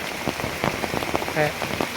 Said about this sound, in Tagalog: kusog kayo ang ulan